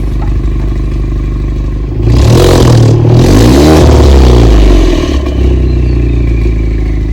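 A loud Alfa Romeo engine rumbles at idle through a Club Alfa Trofeo Ultimo sports exhaust, then revs up sharply and falls back, its deep exhaust note swelling before settling to a steady idle.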